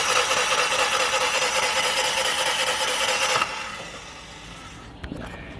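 A Toyota Starlet non-interference engine cranks with its cam gear removed, giving a loud, even whirring drone for about three seconds that then cuts off, leaving a quieter hiss and a small knock.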